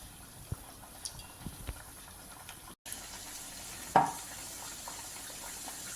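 Onion vadai of maida batter frying in hot oil, a soft continuous sizzle with a few faint taps and a brief dropout partway, then a small clatter.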